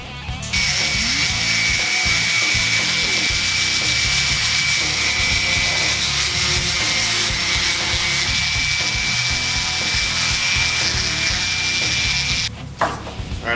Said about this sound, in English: We're just gonna sand the edges to make it smooth for a rabbit